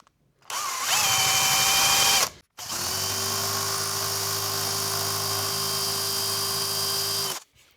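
A power drill bores a wire channel through a guitar body, whining in two long bursts with a brief pause between, steady and close with a strong motor drone.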